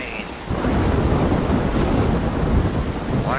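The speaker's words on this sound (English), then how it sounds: "Stormy night." Thunderstorm with heavy rain at night in the video game Life Is Strange, a dense steady roar of downpour and low rumbling thunder that swells in after a brief quieter start and holds loud throughout.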